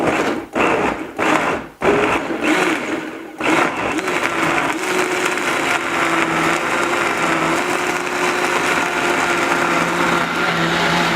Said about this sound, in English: And then you can blend it up like that.